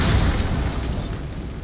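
Bombarda blast spell in Hogwarts Legacy, a loud, deep booming explosion with a heavy low rumble that fades over a second and a half.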